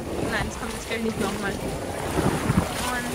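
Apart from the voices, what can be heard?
strong wind at a lake with high waves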